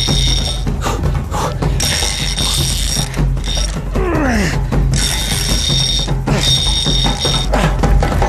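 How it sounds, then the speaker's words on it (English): Fishing reel drag ratcheting and clicking as a big catfish pulls line against a fully tightened drag on a river, loud and near, in repeated bursts over a steady noisy background. "my drag is totally tightened and the line, it can break any time"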